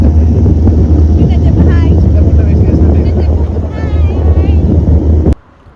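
A tourist boat moves on the sea at Pondicherry, with loud rumbling engine and wind buffeting the microphone, faint voices mixed in, before the sound cuts off abruptly near the end.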